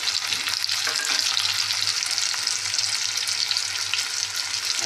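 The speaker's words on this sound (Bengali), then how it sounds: "চলো এটা একটু ভাজা ভাজা হোক" Turmeric sizzling in hot oil in a pan with elephant foot yam pieces, a steady close dense crackle with occasional stirring scrapes and no voices.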